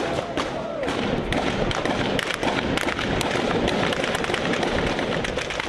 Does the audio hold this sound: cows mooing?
no